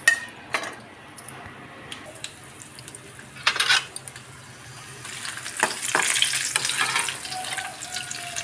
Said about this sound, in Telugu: తాలింపు వేసుకుంటున్నానండి చట్నీకి.